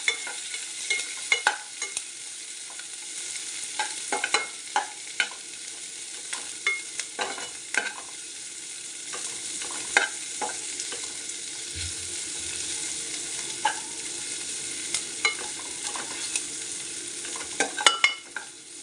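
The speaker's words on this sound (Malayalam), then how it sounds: "ഇതൊക്കെ കൂടി ഒന്ന് ഇളക്കി മുപ്പിച്ചെടുക്കാം നമുക്ക്" Garlic and curry leaves fry in hot oil for a Kerala masala jackfruit dish, giving a steady close sizzle broken by frequent scraping stirs of a spoon against the pan.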